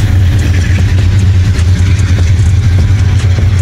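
Loud, steady low rumble of lowered cars' engines idling close by at a São Paulo car meet, a constant throbbing drone with no pauses or speech.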